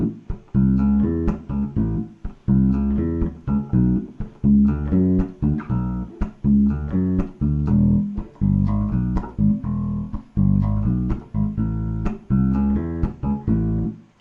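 A bass guitar plays a bass line alone, a bouncy, repeating pattern of short plucked notes with steady rhythm and brief gaps, close and clear throughout.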